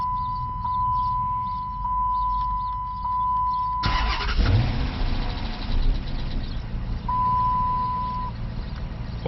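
A steady electronic beeping gives way to a Magnum V8 engine, repaired after a dropped valve seat, cranking and catching, then settling into a loud, rumbling idle on all eight cylinders that continues to the end.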